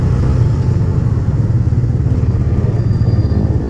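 Yamaha R15 v3 motorcycle engine running steadily, a close, throbbing low idle with a constant rough pulse and slight mechanical clatter, no speech over it.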